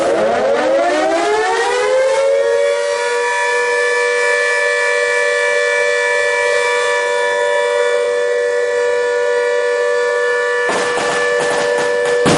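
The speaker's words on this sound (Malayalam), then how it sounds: "ആദരസൂചകമായി സൈറൺ മുഴക്കിയാണ് നഗരസഭ സ്വാതന്ത്ര്യദിനത്തെ വരവേറ്റത്." A municipal civil defense siren sounded to mark Independence Day winds up in pitch and then holds a loud, steady wail for several seconds. It drops away near the end into a brief burst of noise.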